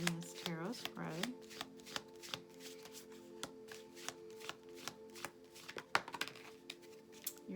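Tarot cards being shuffled in rapid riffling bursts with repeated soft flicks, close and quiet, while a person speaks over them.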